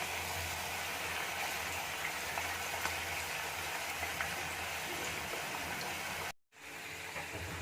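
Prawns frying in a pan of oil for a village-style prawn pickle make a dense, continuous rain-like sizzle, steady and close, with a brief dropout near the end and no voices.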